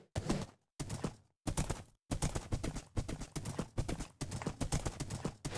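Horse hooves clip-clop in the Minecraft video game, loud, close bursts of rapid hoofbeats separated by brief silences, with no talking over them.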